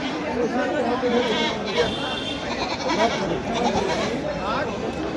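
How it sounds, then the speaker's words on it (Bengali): At the busy Rustampur goat market, repeated goat bleats rise through a dense layer of people talking and haggling, with constant crowd noise and no pause. "আপনারা দেখছেন রুস্তমপুর ছাগলের হাট"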